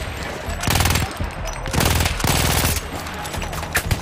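Bursts of rapid machine-gun fire in Battlefield 1 crackle in two long volleys with shorter shots between, loud and close, over a steady battlefield din.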